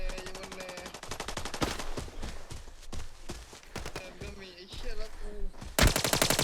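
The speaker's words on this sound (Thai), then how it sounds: "ไอ้เหี้ยดิวไอ้แซมยิงมันดิ" Rapid automatic gunfire in the Arena Breakout video game, long bursts of fast, evenly spaced shots with short pauses, ending in a loud close burst, with brief speech between.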